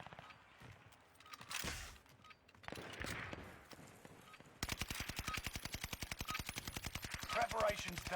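Video game gunfire from a test shot: scattered single shots at first, then a long rapid burst of evenly spaced automatic fire, fairly faint, with a voice talking early on.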